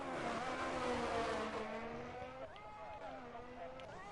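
A race car on a fast lap at Baku in a racing game, engine revving high with shifting tones as it accelerates and changes gear, close and continuous under commentary.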